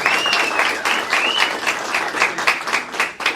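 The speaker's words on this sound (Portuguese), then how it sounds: "quero uma grande salva de palmas para a dica de hoje do Paulo Santos." A studio audience bursts into lively applause for a guest English teacher, a dense, close patter of many hands with a few whoops rising above it.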